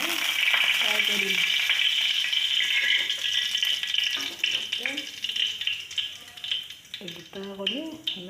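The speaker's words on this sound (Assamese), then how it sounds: "এতিয়া কণীখিনি মই ফ্ৰাই কৰিম।" Eggs fry in a pan with a loud, continuous sizzle and crackle, broken by scraping stirs and rattles, with a voice speaking briefly over it near the end.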